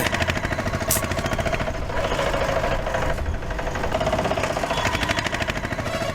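A small auto rickshaw engine runs steadily at close range, a continuous buzzing, rattling drone with a faint knock, and no voices over it.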